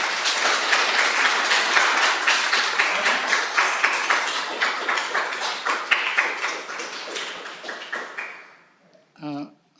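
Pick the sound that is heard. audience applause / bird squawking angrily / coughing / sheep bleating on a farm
audience applause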